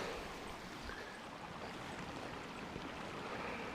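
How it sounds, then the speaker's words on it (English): A small year-round spring trickles and runs outdoors, a soft, steady wash of water at low level with no voices. "It's actually a pretty cool little spring."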